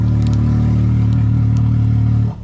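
A Can-Am X3 Max side-by-side engine revs loud and close through an exhaust with an electronic valve, a steady deep droning roar held for about two seconds before cutting off abruptly.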